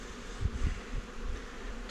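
Honeybees around an opened hive in Mafate give off a faint, low, continuous buzzing hum that swells slightly for a moment.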